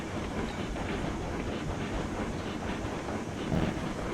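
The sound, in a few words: locomotive and train moving in video game Railroads Online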